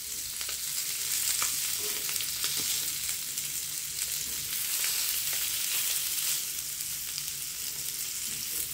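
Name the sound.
ladyfish rava fry sizzling as fish is flipped in pan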